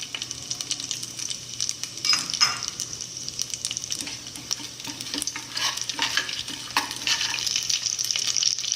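Coriander powder stirred and frying in a pan while puliogare is being made: a steady, close scraping and soft sizzle running throughout, with occasional sharper clinks of the spoon against the pan.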